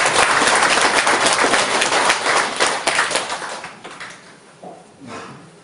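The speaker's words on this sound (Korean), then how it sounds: "이때 박수 쳐야 돼요." A lecture audience breaks into loud, dense clapping that holds for several seconds, then thins out and fades to a few scattered claps.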